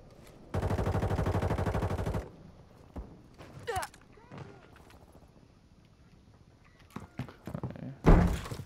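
Sustained burst of automatic assault rifle fire in a combat video game, a dense rapid stream lasting about two seconds, followed by scattered single shots, thuds and impacts, with a louder blast near the end.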